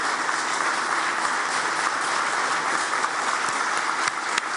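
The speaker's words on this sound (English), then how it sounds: "give a warm round of applause to Taoiseach Micheál Martin and Ukrainian President Volodymyr Zelenskiy" A crowd at a launch event with the Irish Taoiseach Micheál Martin and Ukrainian President Volodymyr Zelenskiy gives warm, continuous applause, even and dense, with a couple of sharper claps near the end.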